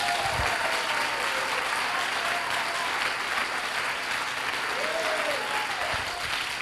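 Church congregation at a revival meeting applauding, a loud, dense, sustained burst of clapping that fills the whole stretch, with faint voices and cheers beneath it.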